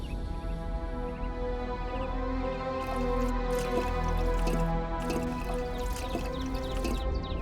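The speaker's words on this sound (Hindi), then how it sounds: "आ गया पानी।" Water coming out and dripping, a series of wet drips and squishy trickles over a steady tonal background hum, moderately close, with no talk during the sound.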